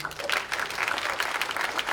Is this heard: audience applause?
yes